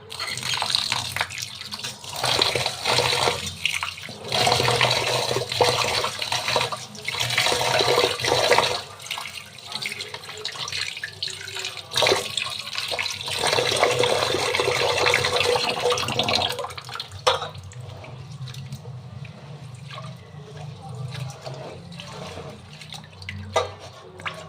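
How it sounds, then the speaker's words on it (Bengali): Rice and lentils for khichuri are swished and rinsed in water, with continuous close sloshing and pouring, occasional clatter against the pot, and a quieter trickle near the end. "আমি চাল ডাল ধুয়ে নিয়েছি একসাথে।"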